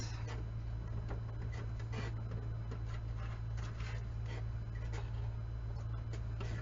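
A sewing machine stitches quilt rows together with a couple of back stitches, making a steady mechanical whirring with a continuous low hum underneath throughout.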